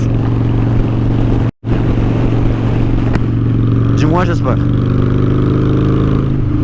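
A Honda Shadow motorcycle engine pulls steadily in fourth gear while riding, a loud continuous low drone with a brief dropout, with a rider speaking over it near the end.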